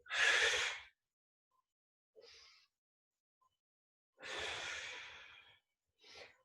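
Breathy exhalations during a Pilates core and leg exercise, two strong long out-breaths each followed by a softer short one, close and clear with silence between.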